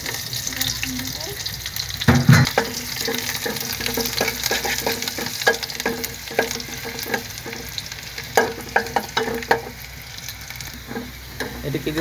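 Garlic frying in hot oil for masoor dal with bay leaf, a steady close sizzle under repeated stirring scrapes and a few sharper clanks, continuous throughout with no talking.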